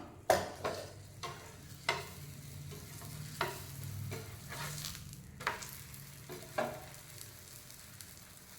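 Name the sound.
stuffed paratha frying in oil on a dosa tawa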